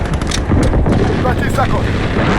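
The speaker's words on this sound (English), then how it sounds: "Friendly precision airstrike on the way." Precision airstrike explosions in Call of Duty: Modern Warfare make a dense, continuous rumble of heavy blasts and gunfire, loud and close, with a voice speaking over the barrage.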